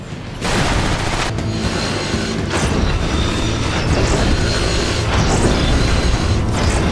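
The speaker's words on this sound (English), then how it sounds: "The machine is out of control!" A runaway machine in the Transformers: War for Cybertron game grinds and clanks loudly and without a break, with dense metallic ratcheting and booming impacts running the whole time.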